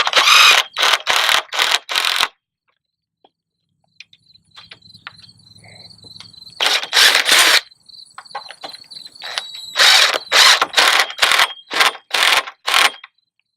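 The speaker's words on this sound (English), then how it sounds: "Chris is on the end down there giving some pressure so that this board will stay in place when we screw it together" Screws are driven through hip boards with a power drill in several loud whirring bursts, a quieter stretch of ratcheting and clicking in the middle, then another rapid run of drill bursts.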